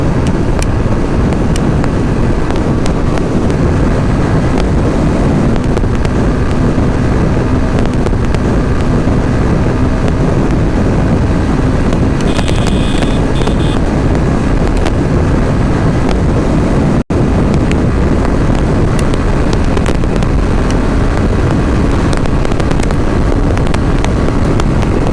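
A vehicle runs at top speed on the Kishoreganj–Mymensingh highway in Bangladesh, with loud, constant wind roar and buffeting over a low road rumble, unbroken for the whole stretch.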